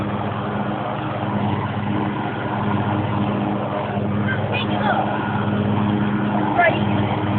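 A riding lawn mower engine runs steadily at a low drone for the whole stretch, heard from nearby with a few short voices over it.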